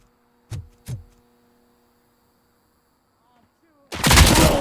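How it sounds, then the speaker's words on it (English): Gunfire in the RoboCop: City Done Gone Rogue video game: two sharp shots close together, a quiet gap, then a loud sustained burst of blasts at the end. "I was just shooting."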